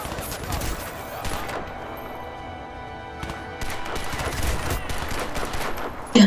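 Gunfire in the video game Crysis 2, rapid bursts of shots and crashing impacts, loud and dense at first, easing midway, then building again with a sharp hit at the end; a voice speaks over it.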